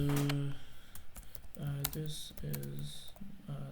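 Typing on a computer keyboard gives quick, close key clicks that run underneath steady speech throughout.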